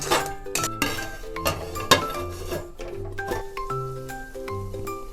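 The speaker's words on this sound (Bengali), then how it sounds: "এটাকে এভাবে নাড়িয়ে চাড়িয়ে কিছুক্ষণের জন্য ঢেকে দেব" A metal lid goes onto a cooking pot of chicken black pepper curry, making a series of close clinks and clanks with a lingering metallic ring, with no talking.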